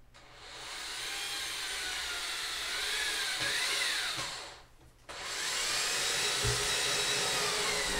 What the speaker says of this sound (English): This was an awkward spot to get my drill into.